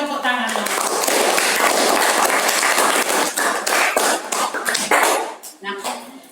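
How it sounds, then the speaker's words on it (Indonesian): Classroom applause from schoolchildren after a science lesson on food webs and ecosystems, a dense patter of many hands clapping steadily for about five seconds, then tapering off as voices come in at the end. "Terima kasih, tepuk tangan."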